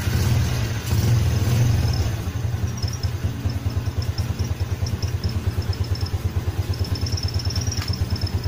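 A Yamaha Jupiter Z motorcycle engine cranks on the starter and then settles into a steady, rhythmic idle. The putter is close, even and continuous, with no talk over it.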